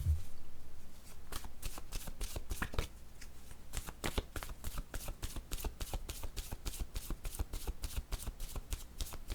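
Tarot cards are shuffled by hand in a rapid, steady run of crisp riffling slaps for about nine seconds, close and fairly loud, with no talking.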